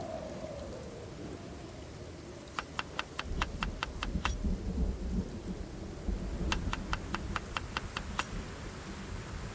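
Thunderstorm with steady rain pouring throughout, joined by two bursts of sharp, rapid cracking thunder or rain hits, close and loud over a rumbling low wash.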